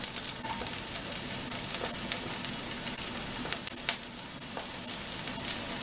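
Onion sautés in about a tablespoon of oil in a pan with a steady close crackling sizzle, dotted with sharp pops and occasional stirring.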